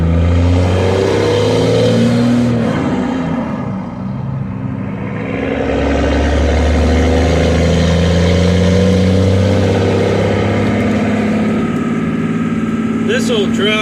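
An old hotshot-hauling truck's engine idles then revs and pulls away from a fuel stop, a steady low rumble rising with acceleration throughout.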